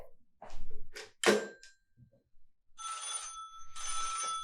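A telephone bell rings during a high school stage play, two loud bursts of ringing in succession following a stretch of agitated dialogue from a performer.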